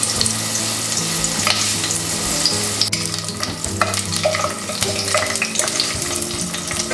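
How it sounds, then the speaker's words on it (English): Chiles de arbol, peppers, onions and garlic frying in oil before refried beans are made, a loud steady sizzle with a low hum and clattering stirring throughout. "And we're gonna fry this just for a couple of minutes."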